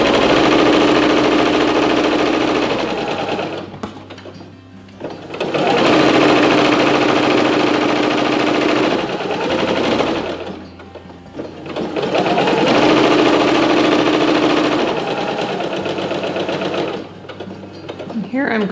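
Sewing machine stitching along the hem of a linen tea towel, a loud, steady whirring drone in three long runs separated by brief pauses, close up.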